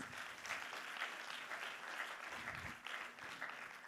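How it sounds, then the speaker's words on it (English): Warm applause from a large audience at a school convocation ceremony, continuous clapping with gentle swells in intensity, somewhat distant and reverberant, with no speech over it. "Let's give them all a big round of applause."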